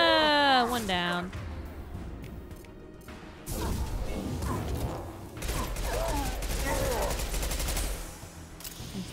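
Gunfire during Mass Effect 2 combat, bursts of rapid shots and mechanical clatter mixed with game sounds, loud and close, with a player talking over it.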